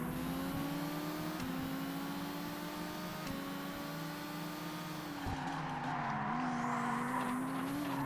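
A Seat Leon Supercopa race car engine in ToCA Race Driver 2 drones steadily at high revs, its pitch dipping and climbing through gear changes and braking while tyres squeal faintly, with no voices.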